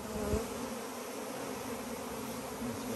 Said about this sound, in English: This way you don't have to deal with nearly as much bees going crazy.